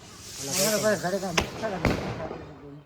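Two sharp skyshot firework bursts crack in quick succession during a Diwali celebration, heard under a person talking.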